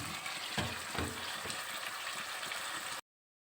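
Soy sauce going into a hot pan of chicken marinade, a steady close sizzle and bubbling frying sound with a few faint knocks, ending abruptly.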